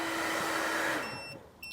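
A hair dryer running on an AllPowers S2000 Pro portable battery: a steady loud whooshing blower hum that cuts out abruptly partway through, leaving faint high electronic tones and a short beep.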